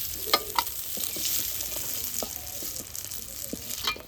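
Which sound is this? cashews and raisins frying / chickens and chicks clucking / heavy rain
cashews and raisins frying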